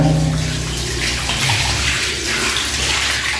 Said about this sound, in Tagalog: buhusan na natin ng tubig para makita natin kung talagang papunta sa drainage yung tubig